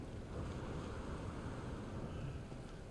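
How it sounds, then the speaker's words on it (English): Rushing river water from the No Man's Sky video game, a steady, dense wash of flowing sound holding at an even, fairly loud level throughout, with no voices over it. "there's the river"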